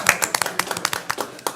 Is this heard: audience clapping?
yes